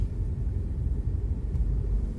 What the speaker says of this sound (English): is a big lorry.